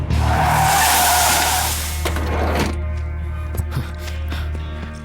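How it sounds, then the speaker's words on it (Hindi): In a comedy scene from the film Betting Raja, a car's tires screech loudly for about two seconds as it brakes hard to a stop. A low engine rumble and a few scattered knocks follow. "गाड़ी रोक पहले"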